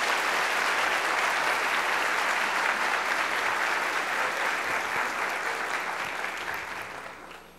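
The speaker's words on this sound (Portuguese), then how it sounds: "Uma salva de palmas." A sustained round of applause from a large audience at a corporate presentation on cultural transformation, thick continuous clapping that holds steady and then fades out over the last second.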